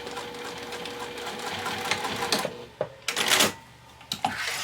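A sewing machine runs steadily while stitching a seam on a small makeup bag, then stops and starts again in short bursts, close up and with no talk.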